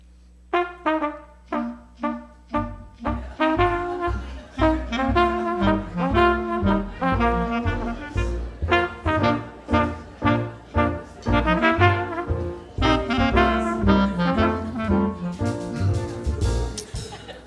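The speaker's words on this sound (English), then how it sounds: "Mardi Gras music used to kind of sound like this" Old-style New Orleans Mardi Gras music plays as a lively, rhythmic band piece with steady strong pulses and layered instruments, moderately loud and continuous, with no talking.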